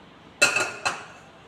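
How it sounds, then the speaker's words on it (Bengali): A metal wok is set down on the stove with two quick ringing clanks, a double knock followed by another, close and clear over quiet room background. "কড়াইটা বসিয়ে দেব।"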